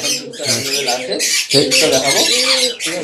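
A tame female African grey parrot at a large exotic bird farm squawks loudly and close by, with harsh, raspy calls running almost continuously for about three seconds and only brief breaks between them.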